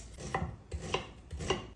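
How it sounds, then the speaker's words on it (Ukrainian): A knife chops onion finely on a board with three or four soft, evenly spaced strokes, close and fairly quiet, in a home kitchen with nobody speaking. "Нарізаємо її дрібненько."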